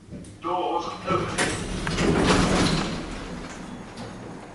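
Sticky, poorly maintained old lift doors at the Dolphin Shopping Centre in Poole rumble open and then bang shut with a heavy slam, close by, as someone talks over the sound.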